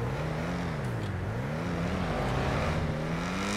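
V12 sports car engine in Grand Theft Auto revving hard, a loud droning tone that wavers up and down as the throttle surges and eases.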